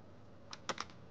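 A few quick computer keyboard arrow-key presses, close and crisp, two or three clicks bunched together near the end of a quiet room, with no talking.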